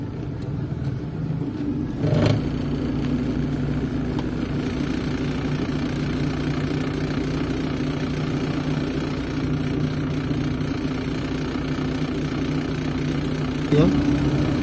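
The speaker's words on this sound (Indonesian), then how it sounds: "Ini macet panjang ya sini" Car engines idle steadily in a long traffic jam on a Malaysian road, a continuous low drone throughout with a couple of brief louder bursts near the start and end.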